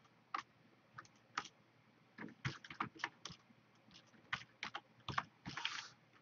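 Computer keyboard typing as HTML code is entered: irregular bursts of crisp key clicks, close and fairly quiet, with short pauses between runs of keystrokes.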